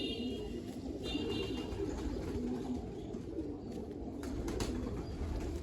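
Low, continuous cooing from pigeons kept at a home loft, a steady murmur throughout with a few brief higher chirps over it.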